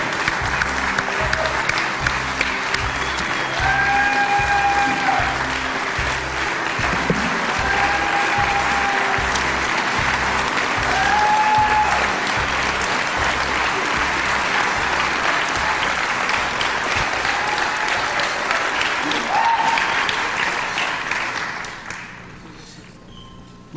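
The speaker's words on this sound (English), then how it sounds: "Everybody, please give a huge round of applause for my good friend, David Miller." Audience applause for a guest speaker at an event, a dense sustained crowd clapping with some whoops and voices mixed in, lasting over twenty seconds before fading out.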